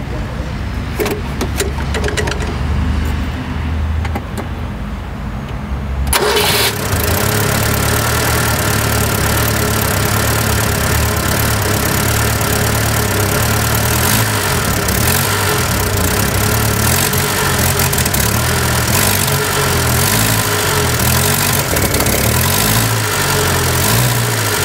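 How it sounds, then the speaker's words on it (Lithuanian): A nearly forty-year-old engine in a rusty 1982 Renault 4 barn find, already slightly warm, cranks and catches, then settles into a loud, steady, close-up idle with a lumpy mechanical rumble that runs on for about twenty seconds. "Taigi štai taip kuriasi šis beveik 40 metų senumo variklis."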